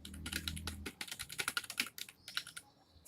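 Rapid typing on a computer keyboard while entering a sentence into a text file, close and quiet, with quick uneven bursts of key clicks and brief pauses between words.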